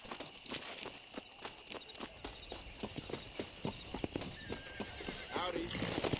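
Horse hooves clip-clop in a steady galloping rhythm across the Red Dead Redemption countryside, with whinnies and neighs breaking through, loud and close, while voices talk over the ride.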